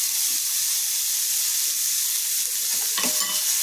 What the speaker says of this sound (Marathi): मिरची आणि कढीपत्ता, त्यामध्ये टाकूयात आपण बारीक चिरलेला कांदा।